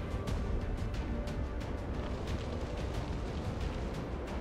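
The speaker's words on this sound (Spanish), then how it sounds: "¡Qué granada más ideal!" A grenade blast in XCOM 2: War of the Chosen, a loud, dense rumble of explosion debris that keeps rolling for a few seconds with sharp crackling bursts inside it.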